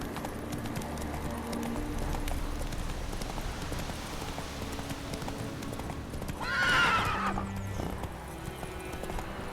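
Roach, a horse in The Witcher 3, gallops with rapid continuous hoofbeats, then lets out one sharp whinny near the end over game ambience.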